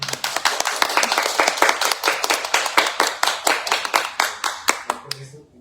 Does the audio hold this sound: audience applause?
yes